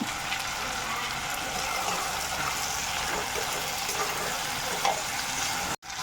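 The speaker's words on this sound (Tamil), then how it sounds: "இப்போ நல்லா வதக்கி எடுத்துக்கலாம்." Eggplant and tomato sautéing in a hot pan with a steady, dense sizzle and light stirring, close and continuous, cutting out briefly at the very end.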